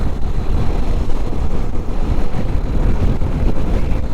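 Strong wind roars steadily while someone rides a KTM motorcycle along the Munnar road, making a loud, dense, low rumble of buffeting gusts throughout.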